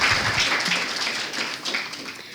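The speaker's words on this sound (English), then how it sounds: "let's first again applaud our panelists for very good presentations" An audience applauds panelists at a moot court competition, a dense, even wash of clapping from many hands that keeps up steadily for a couple of seconds.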